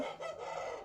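A full double-bodied breeding rooster on a farm crows once, close and fairly loud, in a short burst.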